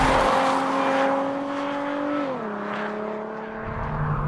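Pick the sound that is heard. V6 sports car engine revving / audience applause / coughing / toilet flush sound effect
V6 sports car engine revving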